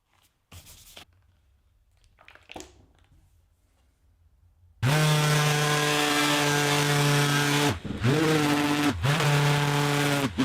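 An electric sander working a hickory live edge slab table starts abruptly after a few faint knocks and handling noises, then runs loud and steady with a high whine. It briefly cuts out twice near the end before resuming.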